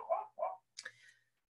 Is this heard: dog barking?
yes